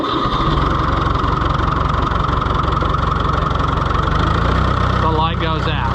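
Tractor engine fitted with a Delco 10SI alternator conversion running at a steady, loud idle with a rhythmic low chug, a brief change in tone near the end.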